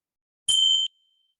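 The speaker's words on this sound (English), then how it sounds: "I'm going to chime the chimes to start out with" A single bright meditation chime struck once, ringing clear and close for under half a second before cutting off, with silence before and after.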